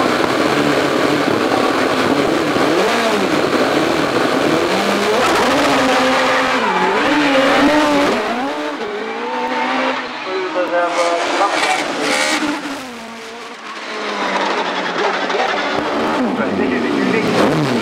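A 4-litre Cosworth DFL V8 OMS hillclimb race car at Shelsley Walsh, loud and close, its engine revving hard through rising and falling pitch sweeps, easing off briefly midway before roaring on again, with a commentator talking over it.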